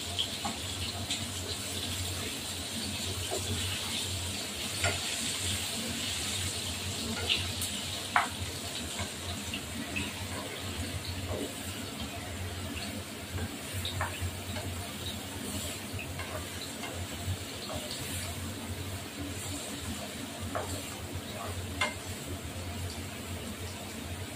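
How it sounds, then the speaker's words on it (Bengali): Potatoes fry in a pan with a continuous low sizzle and faint scattered clicks throughout, fairly quiet and steady, with no voices. "এবার এই আলুগুলো ভেজে দিতে হবে"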